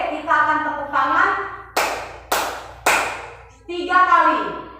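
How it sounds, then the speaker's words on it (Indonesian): Children in a classroom clapping game clap together in three sharp, separate group claps, spaced evenly between stretches of a teacher's spoken instructions. "kita akan tepuk tangan 1 kali"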